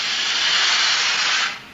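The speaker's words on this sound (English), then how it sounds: "a younger apprentice tailor raises the cover of a steam press" A tailor's steam press lets out a loud, close, steady hiss of escaping steam as its cover is raised, holding evenly before cutting off abruptly near the end.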